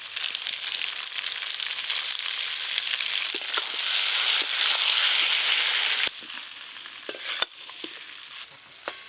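Fried potato and cauliflower pieces tipped into hot masala in a pan, a loud continuous sizzle with stirring scrapes and a few sharp clicks, easing off toward the end; no talking.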